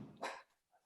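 A single dog barks once indoors, a short, fairly faint yap in a quiet room, followed by a soft whimper.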